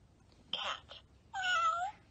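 Two electronic cat meows from a children's animal sound book, a short chirpy one followed by a longer tonal meow, moderately loud and close with no talking.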